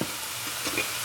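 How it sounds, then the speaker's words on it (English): Food sautéing in a hot pan gives off a steady, close broadband sizzle for a brief moment, with no voices. "Okay, so I'm just going to saute this up."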